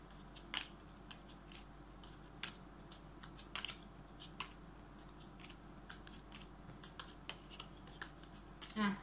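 Playing cards being shuffled and drawn one by one for a Thai fortune-telling reading, quiet close snaps and riffles scattered across a soft room hush, with no talking.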